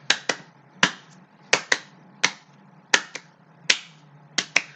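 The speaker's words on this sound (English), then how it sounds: "Now double claps." Double hand claps ring out in sharp pairs, each crisp pair followed by a short pause and then a single clap, repeating in a steady rhythm, loud and close against near silence.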